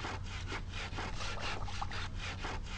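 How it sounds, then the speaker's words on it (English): Rhythmic back-and-forth sawing in the video game Hopkins FBI, a character sawing through a body part in an FBI laboratory, with steady strokes roughly every quarter second, loud and continuous with no talk. "He seems to be sawing off one of the body parts."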